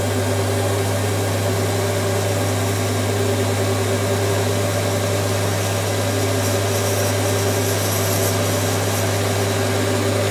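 A metal lathe taking a light finishing cut on a shop-made knurling tool part, running as a steady, even machine hum with a constant low drone and broadband motor noise through the whole stretch, no voices.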